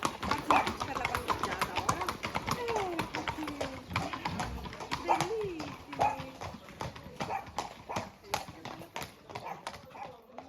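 Horses' hooves clip-clop in a steady, irregular patter at a local raduno in Calabria, close and fairly loud, with people talking nearby and faint birdsong in the background.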